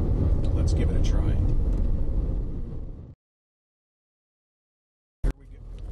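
A BMW M5 engine accelerating hard, a loud steady roar under a voice that cuts off abruptly into silence, followed by a brief burst and the rumble returning.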